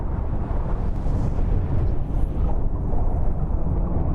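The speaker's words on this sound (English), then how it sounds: "The explosion actually looks kind of cool from under the water, too" In Subnautica, the Aurora ship explodes as heard from underwater, a deep muffled rumble that rolls on heavily and continuously, dull and booming with no voices.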